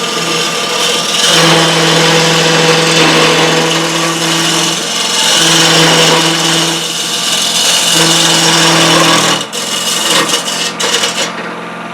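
A wood lathe hums loudly as it spins up to around 1200 RPM for hollowing, a steady droning tone that dips and surges in stages before the pitch wavers near the end.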